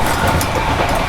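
The Kalka Howrah Netaji Express passing close by during a crossing on Indian railways, a brief loud rush of rolling wheels and carriage noise.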